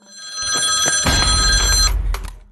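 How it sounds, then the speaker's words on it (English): A house telephone rings loudly and close, a bright electronic warble repeating through the whole moment over a rumbling low background, with no talking. "At that moment, the house phone rings"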